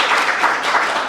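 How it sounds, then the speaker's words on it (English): Short stretch of audience applause at a Cleveland Book Week author event, a steady blur of many hands clapping, moderately loud and uninterrupted by talk. "You can go ahead and give it a round of applause."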